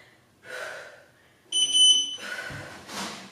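A single steady electronic beep from a workout timer sounds for about half a second between breathy gasps and exhalations.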